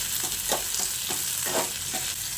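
Grated ginger, chopped green chilli and onion frying in a pan for masoor dal, giving a continuous hiss and sizzle broken by quick, regular stirring scrapes at close range.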